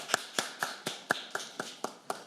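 A small audience claps to welcome the chair of a healthcare policy panel discussion. About nine sharp, evenly spaced claps sound faint and sparse rather than a full ovation.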